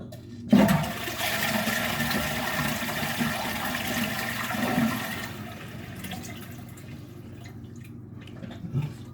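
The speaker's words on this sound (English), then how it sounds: "So flush the cistern" A toilet cistern fitted for a Fluidmaster 400 valve is flushed: a sudden close rush of water that gurgles steadily for several seconds, then thins to dripping and trickling refill sounds.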